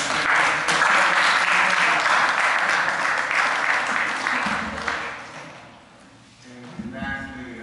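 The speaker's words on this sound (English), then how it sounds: "y'all need to give yourself a round of applause" Audience applause at a youth symposium, a full, dense burst of clapping that holds strong for several seconds, then fades away, after which a voice begins speaking.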